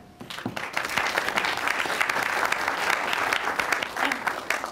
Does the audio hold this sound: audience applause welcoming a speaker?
yes